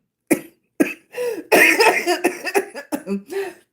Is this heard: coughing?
yes